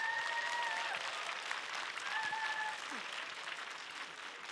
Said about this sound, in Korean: 큰 박수로 전한길 대표님 모시겠습니다